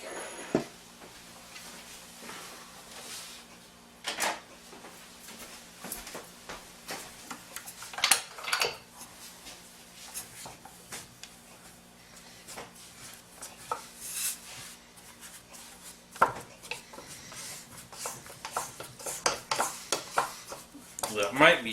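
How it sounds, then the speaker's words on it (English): Spatula scraping down sticky anise cookie dough for Greek paximadia around a mixing bowl, heard as quiet scattered scrapes and light clinks, close and low in level, with a person talking intermittently throughout. "let me scrape that down and see what that looks like"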